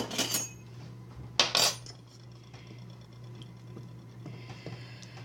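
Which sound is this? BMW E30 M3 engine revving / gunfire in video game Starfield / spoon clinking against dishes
spoon clinking against dishes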